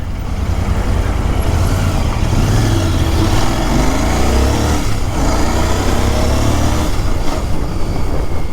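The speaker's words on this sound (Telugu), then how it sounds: "ఈ బైక్ చాలా బాగుంటుంది, ఎస్పెషల్లీ దీని సౌండ్." A Royal Enfield Continental GT 650 motorcycle engine rumbles continuously up close. It has a deep, throaty throb, and the revs shift slightly around the middle.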